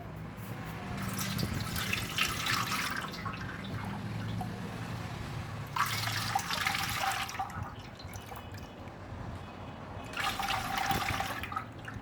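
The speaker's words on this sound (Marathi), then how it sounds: "आता हे आपल्याला परत एकदा चाळणीनी गाळणीनी गाळून घ्यायचं आहे" Wheat liquid being strained through a sieve in a home kitchen, a steady watery trickle and splash running throughout, swelling in three louder surges, with no talking.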